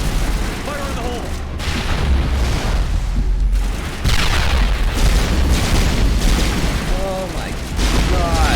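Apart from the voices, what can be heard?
grenade explosion in the video game Mass Effect 1 Legendary Edition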